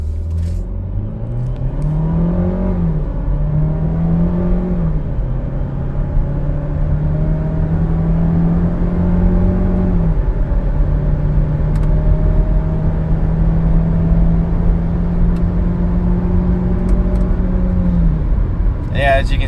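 A Chevy Equinox Premier AWD with a 1.5-liter turbo engine revs at full throttle, a steady drone that climbs and holds, dips briefly and rises again, with a faint voice now and then.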